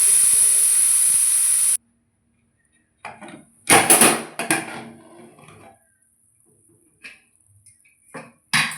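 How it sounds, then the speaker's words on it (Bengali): A pressure cooker holding chicken stew vents steam in a loud, steady hiss that stops abruptly, followed by scattered knocks and clatter of the lid and pot. "ঢাকনাটা খোলার জন্য সমস্ত এয়ারটা আমি বার করে দিয়েছি"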